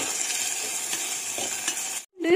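Curry leaves, tomato, garlic and onion sautéing together in a pan for vathal kuzhambu curry, a soft continuous sizzle with light stirring scrapes, cut off abruptly by a brief silence near the end.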